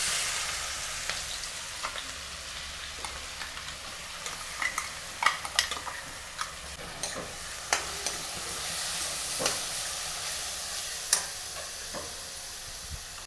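Ingredients for pachi karam egg curry go into hot oil, bringing a soft, continuous sizzle punctuated by sharp, irregular pops and spits, heard up close with no voices.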